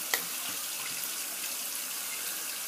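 Water runs steadily from a tap into a sink while a face is rinsed after shaving, a soft continuous hiss with a faint knock at the start.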